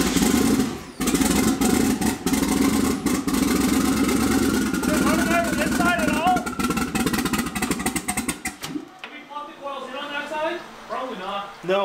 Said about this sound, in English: Well, it runs on half cylinders.